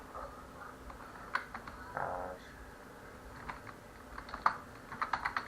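Keys are tapped on a keyboard while a Wi-Fi password is entered, a few soft, scattered clicks early on and then a quicker cluster of keystrokes at the end, quiet and without speech.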